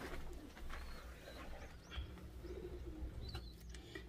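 Pigeons, including baby pigeons being hand-fed, cooing and chirping faintly at close range with soft rustling, steady throughout with no talking.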